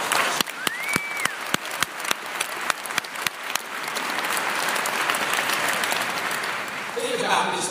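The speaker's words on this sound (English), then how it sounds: "Give it another big round of applause." A university new-student-day audience breaks into applause: a few distinct early claps quickly swell into a full, sustained roar of clapping that continues to the end, with talk faintly underneath.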